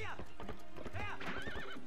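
A horse in Zelda: Twilight Princess whinnies over clip-clopping hooves, a brief close game sound mixed with a player's voice.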